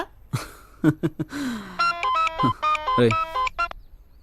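A phone's electronic ringtone plays a bright melodic pattern of repeated tones, preceded by a few short spoken words nearby.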